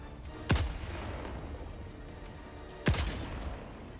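Two sharp, booming AMR anti-materiel rifle shots in Helldivers 2, spaced a couple of seconds apart, each with a short rumbling tail over quiet background noise.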